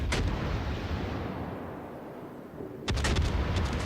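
Naval guns boom in the World of Warships game, a heavy rumbling blast at the start followed by a decaying roar, then another sharp volley of shots near the end.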